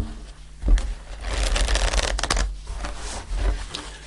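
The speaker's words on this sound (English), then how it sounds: "I'm just going to pull a couple of more cards. Let's pull a card for the moon." Tarot cards being shuffled and pulled from the deck, close soft rustling and quick papery flicks in a few short bursts, without talk.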